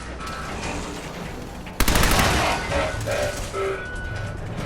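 Robots open fire in the video game Fallout 4, a sudden loud burst of rapid mechanical gunfire that starts abruptly and rattles on steadily for a few seconds amid other game sounds.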